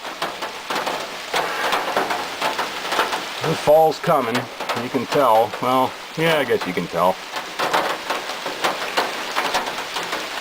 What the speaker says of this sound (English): we got a little bit of rain coming down. As you can probably hear off of the roof